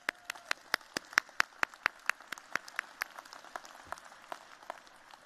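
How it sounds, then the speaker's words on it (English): Medical school graduates clapping for their families at a commencement ceremony, a sparse run of crisp, distinct claps in a large hall, thinning out and fading over a few seconds. "Candidates, please give your family a round of applause."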